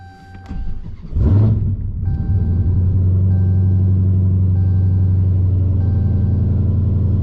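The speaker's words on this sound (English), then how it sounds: "I'm going to start the car up, and we're going to be on our way." A car sits in a driveway while its engine cranks, catches with a loud burst and revs briefly, then settles into a steady, close, deep idle rumble, with no talking over it.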